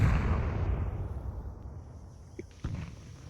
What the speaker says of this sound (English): Throwing flashbang. Deploying flashbang.